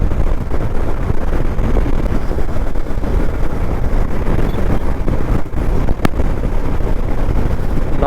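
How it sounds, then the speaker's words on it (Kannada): Strong monsoon wind buffets a motorbike rider crossing a long bridge, a loud, continuous roaring rush that barely lets up, with one brief sharp click near the end. "ಫುಲ್ಲು ಗಾಳಿ"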